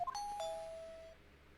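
A doorbell in the video game Phoenix Wright: Ace Attorney Trilogy rings out a clear two-tone ding-dong chime whose second note fades away alone.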